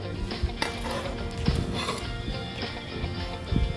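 Minced meat and onions are stirred in a pan for çeltik kebabı, with a spoon scraping and clanking against the metal over a soft sizzle in a steady, uneven rhythm close to the microphone.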